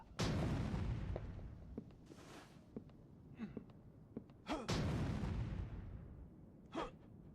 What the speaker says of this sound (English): I can explode the coffins.